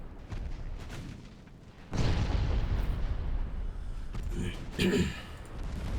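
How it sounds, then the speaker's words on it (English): Light naval guns on the cruiser Santiago firing at enemy light cruisers in the naval strategy game Ultimate Admiral Dreadnoughts: two heavy booming blasts over a continuous rumbling battle din, the second sharper and closer. "Santiago's light guns are wrecking the light cruisers here"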